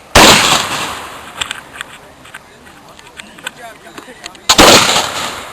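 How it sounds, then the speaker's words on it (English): Black powder gun fired at an outdoor rendezvous, two loud sharp blasts, one at the start and one near the end, with a person speaking between them. "Move your finger forward. aim and fire."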